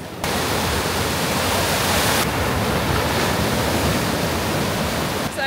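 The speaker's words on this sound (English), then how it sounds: "Uh-oh, massive wave." Ocean surf on a Sri Lanka south coast beach roars as a broad, loud continuous wash of breaking waves, close and steady throughout.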